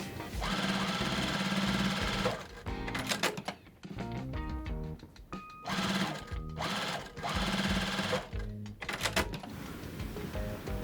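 A sewing machine stitches quilt rows together into blocks, running in several bursts of fast mechanical whirring broken by short pauses, clicks and handling sounds, close and clear.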